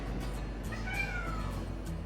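A cat gives a single short meow, fairly faint and mid-distance, over a steady low background hum with no talk.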